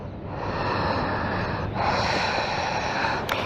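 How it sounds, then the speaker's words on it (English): Deep, slow breathing during a Pilates session on Maui, a steady airy rush of breath close by with a couple of sharper, snort-like inhales. "Deep breathing here."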